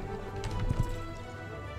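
Horse hooves clip-clop softly in the video game Star Stable Online, a short run of faint, quick hoofbeats over a quiet game backdrop.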